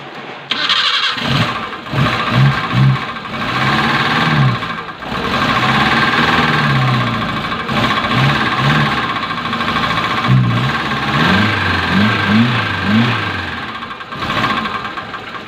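A Suzuki Gypsy's F10A engine cranks and catches after its distributor and spark plug wires are fitted, then settles into a loud, close, slightly uneven idle with rhythmic pulsing that runs steadily throughout.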